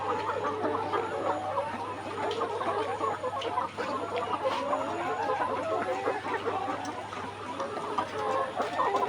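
Layer hens, 181 days old, on a poultry farm holding about 1,200 birds, cluck constantly in a dense, overlapping chorus that never lets up, with no talk.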